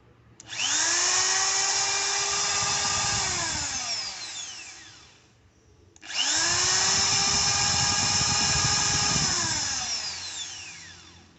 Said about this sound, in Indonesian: Suaranya cukup lembut ya, nggak kasar ya, jadi berbeda dengan mesin bor lainnya